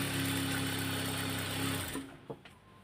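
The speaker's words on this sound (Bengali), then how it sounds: "যারা সেলাই আঁকাবাঁকা হয় তারা অবশ্যই এই মেশিনের গাইডটা দিকে ফলো রেখে আপনাকে সেলাইটা করতে হবে সোজা করে" A sewing machine runs steadily while stitching the hem of a salwar, a loud and close mechanical whir that stops abruptly near the end, leaving a faint click or two.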